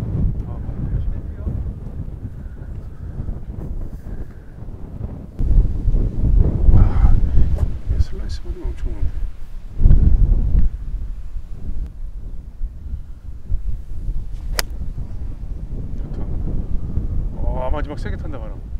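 Strong gusts of wind buffet the microphone on a hilltop golf course hole, a loud, continuous roar that surges and drops, with people talking intermittently over it.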